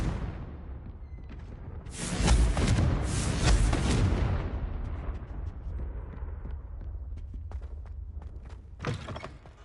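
A Confringo explosion spell from the video game Hogwarts Legacy goes off as two heavy, booming blasts a couple of seconds long, then a rumbling tail fades out and a shorter burst follows near the end.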